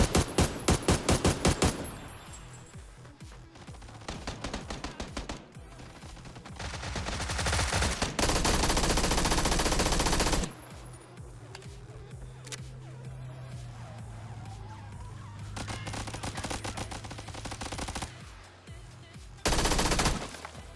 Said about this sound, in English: So my teammate's shooting did kind of throw me off.